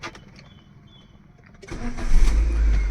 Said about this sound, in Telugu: ఇప్పుడు మనం ఇంజన్ ఆన్ చేద్దాం.